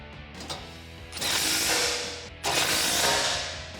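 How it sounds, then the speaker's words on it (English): A ratchet with a 16mm socket tightens the bolts on a RedRock tubular off-road rear bumper on a 2015-2019 Ford F150: close, loud clicking runs in two long bursts, separated by a short pause. "Grab a 16mm socket and tighten these down."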